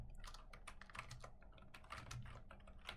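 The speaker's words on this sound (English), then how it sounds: "Now I'm going to type print" Typing on a computer keyboard while entering code, a quick irregular run of soft, close key clicks heard alone at low volume.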